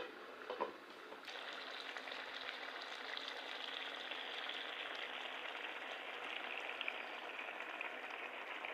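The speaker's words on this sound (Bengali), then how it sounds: "ঝোলটা বলক উঠে গেছে, এখন মাছ দিয়ে দিব।" Mustard hilsa curry broth at a rolling boil as fish pieces go in, a soft steady bubbling hiss with a brief splash and clatter near the start, fairly faint and without talk.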